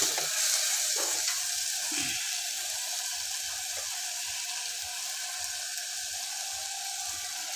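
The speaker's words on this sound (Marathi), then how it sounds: "आता मी ह्याच्यामध्ये टाकणार आहे गरम पाणी" Hot water is poured into a clay pot of sizzling masala drumstick curry, giving a steady hiss of frying and bubbling liquid with soft stirring clinks, close and continuous throughout.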